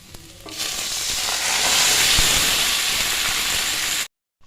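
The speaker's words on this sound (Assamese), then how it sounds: "ইয়াত কুটি লোৱা বিলাহীখিনিও একেলগে দি দিছোঁ, যাতে এইখিনি একেলগে ভাজ খাই যায়" Chopped tomatoes fry in hot oil for an egg curry, giving a loud, close, continuous sizzle and hiss. It swells after a quieter start, then cuts off abruptly near the end.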